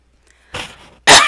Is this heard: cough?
yes